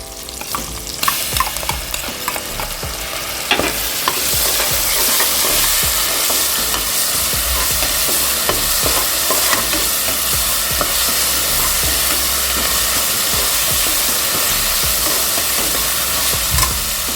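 Ginger and garlic sizzle and fry in an oil-filled pan for a horse gram lentil rice dish, a steady loud hiss with scattered scraping stirs and spatula taps throughout.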